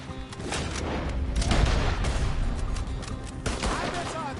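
Dense, continuous gunfire from a Red Dead Redemption 2 swamp shootout with moonshiners, rapid overlapping shots and booms filling all four seconds, with voices talking over the battle.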